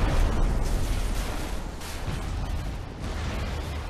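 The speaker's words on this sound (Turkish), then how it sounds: "O şey patladı. Öldürdüğün canavar." A loud, rumbling explosion in the video game Crysis Warhead, with booming low-end bursts and crackling debris, fading into a sustained roar.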